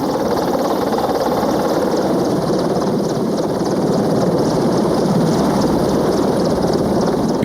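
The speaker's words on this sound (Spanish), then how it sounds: "El reactor transformaría el helicóptero." A jet-turbine helicopter engine roars in a steady, dense whine and rumble, loud and continuous with no voices.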